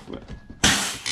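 A pneumatic pop rivet gun fires a rivet while a homemade fishing chair is being assembled: a few faint handling clicks, then a sudden loud burst of air hiss that holds steadily for about half a second.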